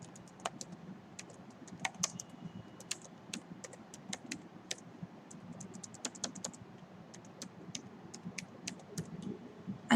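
Soft clicking of a computer keyboard as a project name is typed, with irregular bursts of quick keystrokes and brief pauses over a quiet room background, no voices.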